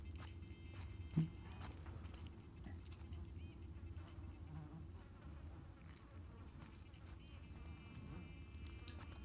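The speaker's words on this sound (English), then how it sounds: "I love the sound of bugs buzzing like that." Insects buzz in a steady, faint drone through a quiet outdoor scene in The Last of Us Part II, with one brief thump early on and no talking.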